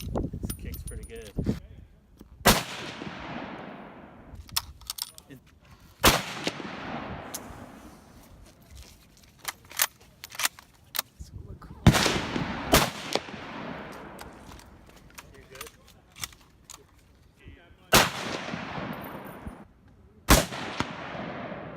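Gunshots ring out at an outdoor shooting range, about seven loud, sharp reports spaced a few seconds apart, each with a decaying echo, while people talk between shots.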